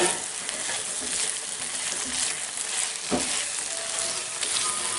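A pan of mixed vegetables with potato, peas, carrot and fenugreek cooks with a close, steady sizzle and occasional scraping of a spoon as it is stirred.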